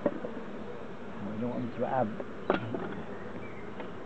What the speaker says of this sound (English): You can hear them buzzing away